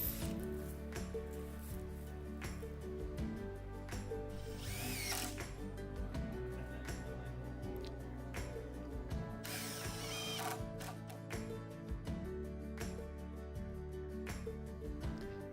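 Power drill driving screws into a cedar dock frame, a continuous whirring and ratcheting at close range with brief louder bursts as screws seat, all without talk.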